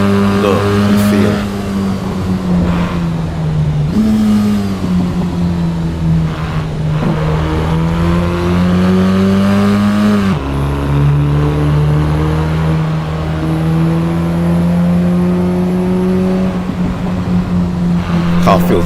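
A race car engine in the video game Assetto Corsa Evo drones steadily, its pitch rising and dropping through shifts, loud and continuous, with a voice talking over it at times.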